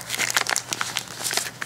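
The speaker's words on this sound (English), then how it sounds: "So let's just tear into them." Plastic blind bag packaging holding custom LPS toy pets crinkles and rustles as hands tear into it, a close, busy run of crackly scrunching bursts with no talk.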